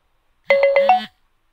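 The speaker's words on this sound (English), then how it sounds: "Notifications." A phone notification chime plays alone in a quiet room: a short, bright electronic tone of four quick pulses that fades within about half a second.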